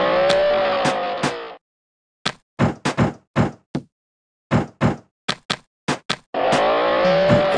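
A kart races with its turbo button pressed in a Peppa Pig theme park game app, with bursts of engine hum at the start and end and a quick run of sharp knocking bumps and clatters between them.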